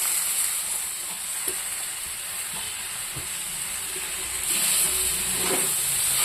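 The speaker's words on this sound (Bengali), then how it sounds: "এটাকে আমি একটু সময় ভাজবো।" Chital fish chutney ingredients fry in a hot pan with a steady loud sizzle and hiss, occasional stirring scrapes, and the frying swelling louder toward the end, with no voices.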